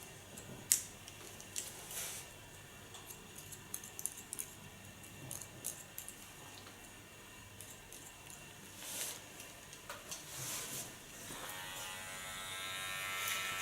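Electric hair clipper buzzing in short bursts while cutting hair during an asymmetric side-shave undercut, close and fairly quiet, with intermittent snipping and handling sounds.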